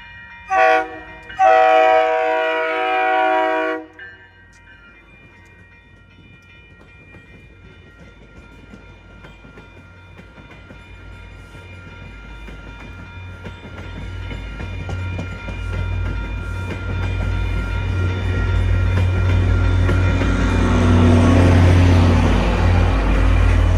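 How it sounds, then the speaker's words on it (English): A train horn blasts briefly, then an inbound commuter train in Massachusetts rumbles closer and roars past over an interlocking, the clatter building to a loud finish. "we see an inbound train whizzing by us over the interlocking right next to L080"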